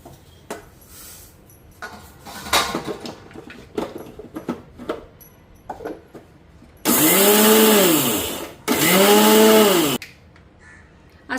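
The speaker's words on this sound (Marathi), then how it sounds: "आता हे तीळ बारीक करून घेते" Sesame seeds ground in an electric mixer grinder, two loud whirring bursts of the motor rising and falling in pitch, separated by a short pause, after quieter clinks and handling noises.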